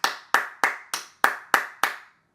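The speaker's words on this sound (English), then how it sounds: "Clap it up." Seven sharp hand claps land in an even, unhurried rhythm, each crisp and close with a brief decay, heard alone and ending in silence.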